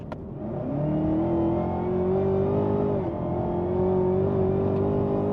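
A Chevrolet Camaro ZL1 engine revs hard and accelerates, its steady roaring drone climbing in pitch and holding loud and close throughout.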